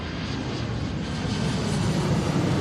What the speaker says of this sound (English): This is definitely a 900 because it's loud.